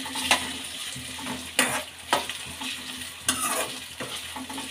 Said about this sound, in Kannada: ಆಲೂಗಡ್ಡೆನ ಹಾಕ್ಕೊಳ್ಳೋಣ. ಎಣ್ಣೆಲೇ ಚೆನ್ನಾಗಿ ಫ್ರೈ ಮಾಡಬೇಕು.